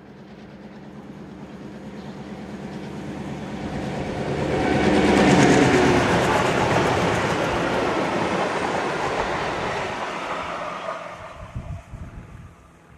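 Danish diesel locomotive MY1101 hauling a train of historic rolling stock toward the railway museum in Odense, approaching as a steady rumble and rush that builds to a loud close pass, then fades with some clanking near the end.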